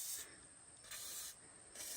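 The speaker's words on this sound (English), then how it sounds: "The high quality WD-40 rust penetrant spray." WD-40 rust penetrant spray sprayed on an old Model T gives two quiet, steady hissing bursts of about one second each, separated by a short pause, close and without talk.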